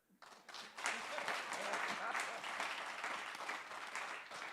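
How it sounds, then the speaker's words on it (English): A crowd at a police dialogue event claps in a dense, continuous burst that starts abruptly and stays strong and steady to the end, with voices faintly mixed in. "And that is the way you clap."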